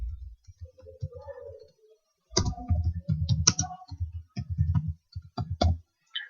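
A name gets typed on a computer keyboard: a short run of soft key taps, a pause, then a denser burst of clicks and clacks, close to the microphone.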